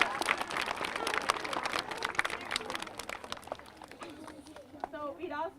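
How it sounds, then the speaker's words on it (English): An outdoor Arbor Day crowd at an elementary school claps in dense, scattered bursts that swell and taper, with a voice speaking near the end as the clapping thins. "let's give a big round of applause for Livonia for our trees"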